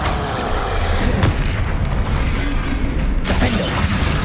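Bombarda explosion spell in Hogwarts Legacy: a loud, sustained barrage of deep booms and mechanical clatter, with a fresh bright burst near the end, no talking over it.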